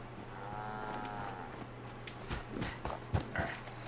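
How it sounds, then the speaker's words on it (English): Cows moo in the Fallout 76 game, a long low bellow up close followed by shuffling, thudding hooves and footsteps. "kill the cows"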